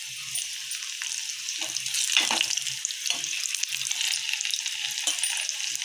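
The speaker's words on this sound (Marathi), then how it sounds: "लसूण छान लाल झाल्यावर त्याच्यात मी हे पाव चमचा हिंग" Garlic and asafoetida sizzling in hot oil for a Marathi cashew curry, a steady bright crackling hiss throughout with a few soft stirring clinks underneath.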